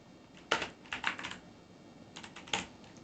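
Keystrokes on a computer keyboard while writing a C program, in a few quick bursts of clicks with pauses between, moderately close and without talk.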